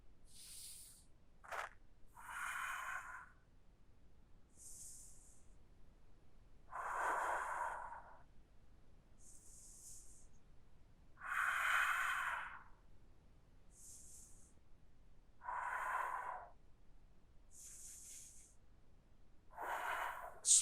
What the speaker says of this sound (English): 5 deep breaths here.